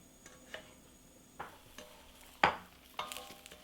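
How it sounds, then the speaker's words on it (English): Baby eggplants sizzle softly in a pan, with a handful of sharp scraping stirs at irregular intervals, close and fairly quiet. "Keep stirring occasionally these eggplants till they are tender."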